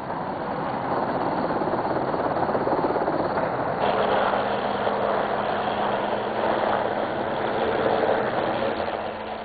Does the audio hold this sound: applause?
no